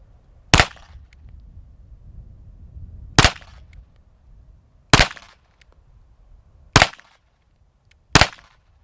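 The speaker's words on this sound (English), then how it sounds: "Do 5 shots on that one as well." Five sharp pistol shots from a Smith & Wesson M&P 2.0, spaced unevenly about one to two and a half seconds apart, loud and close, each with a short ringing tail and no talk.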